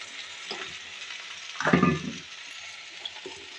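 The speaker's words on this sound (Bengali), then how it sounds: "আমার এটা ভাজা ভাজা হয়ে গেছে, কষাও হয়ে গেছে অনেকক্ষণ ধরে।" A vegetable curry with peanut paste frying and being stirred in a pan, a low sizzle with one louder burst of scraping and bubbling near the middle, close and without talk.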